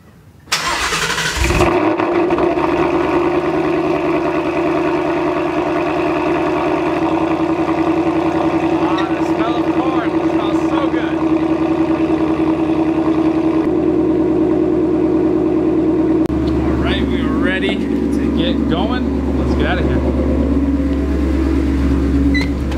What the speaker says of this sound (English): go ahead and get started with a cold start